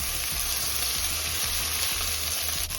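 Split green chillies sizzling in a hot pan with ginger garlic paste for a shahi pulao, a steady loud hiss of frying with soft low thumps repeating roughly every half second as the pan is stirred, no voices.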